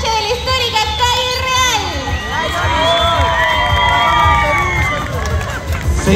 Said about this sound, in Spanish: ¿dónde está el aplauso de la gente esta noche de la histórica Calle?